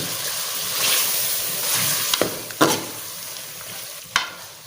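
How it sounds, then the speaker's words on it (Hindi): Mutton korma masala with turmeric and salt being stirred in a hot pan, a continuous sizzling fry broken by a few sharp scraping knocks of the spoon against the metal, close and fairly loud, with no talking. "अभी इसको कर लेते हैं मिक्स।"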